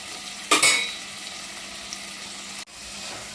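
Tomatoes sautéing in a clay pot for fish curry give off a loud burst of sizzle as they hit the hot pot. The frying then settles into a steady, softer crackle with a brief clatter of stirring.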